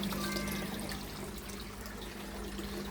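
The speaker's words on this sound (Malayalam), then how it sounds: "അതിലേ കൂടെ വെള്ളം ഇങ്ങനെ വീഴുന്നത് കാണാം" Water pouring and trickling steadily in a backyard aquaponics system with catfish, a continuous close splashing dribble with a faint hum beneath it.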